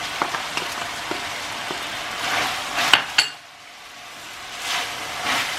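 Garlic goes into browned meat in a sac tava pan, with a steady sizzle, stirring scrapes and metallic clinks up close, a sharp clank partway through, then quieter frying.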